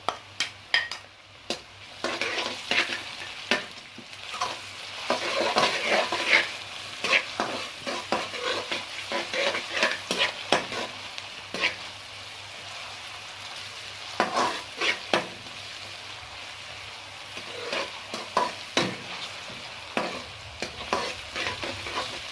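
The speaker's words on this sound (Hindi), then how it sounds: "ये देखिए लहसुन और अदरक भून रहा है" Garlic and ginger paste frying in a pan for chicken masala, a steady sizzle broken by frequent spoon scrapes and stirring clatters against the metal, with no talking.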